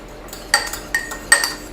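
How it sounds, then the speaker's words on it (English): Eggs being beaten in a bowl for a baked donut recipe made from a pre-packaged mix. Three separate bright clinks of utensil on bowl ring out close by, spaced about every 0.4 seconds over a quiet room, with no talking. "Maeve is going to help us by beating our eggs a little bit."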